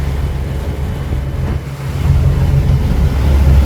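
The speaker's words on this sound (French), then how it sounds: "Humphrey met le deuxième moteur pour assurer" The sailboat Karlana IV motoring on its second engine during a transatlantic crossing, a steady low engine drone mixed with wind and wave noise, rising slightly louder partway through.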